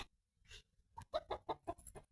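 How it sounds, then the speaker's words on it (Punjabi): Small chicks give a quick run of short, faint chirps and peeps. The calls come as bursts spaced irregularly, close by but quiet. "ਦੇਖੀ ਚੂਚੇ ਨਿੱਕੇ ਨਿੱਕੇ ਨਾ ਨਿੱਕੇ ਨਿੱਕੇ ਚੂਚੇ ਆ"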